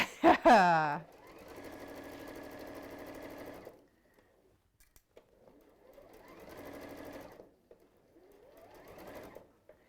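A sewing machine runs in several steady bursts while stitching a straight seam, up close and fairly loud. The bursts are separated by short pauses, and a brief voice comes just before the first run.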